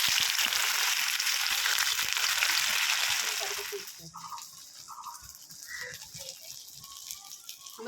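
Maida dough pieces frying in hot oil in a kadai, a loud dense bubbling sizzle for several seconds that then settles into quieter crackling and popping, with soft voices faintly underneath.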